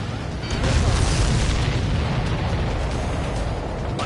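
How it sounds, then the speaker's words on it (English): A missile launch and explosion in the flight combat game Ace Combat 7 rumble as a loud, sustained boom and roar, with a radio voice talking over the blast. "Missile launched."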